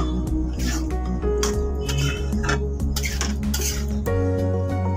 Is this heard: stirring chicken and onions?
yes